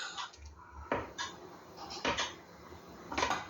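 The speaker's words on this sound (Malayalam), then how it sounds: "ഒരു ഗ്ലാസ് പച്ച പീനട്ട് കുക്കറിലേക്ക് ഇട്ട് കൊടുക്കുകയാണ്" Raw peanuts tip from a glass into a metal pressure cooker, making a few short clattering, rattling bursts at close range with quiet gaps between them.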